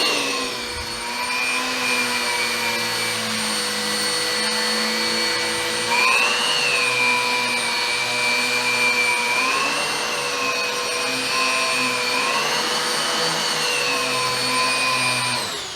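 A Riccar R30 upright vacuum cleaner runs steadily with a loud, close motor whine that shifts in pitch a few times as it is used on the floor.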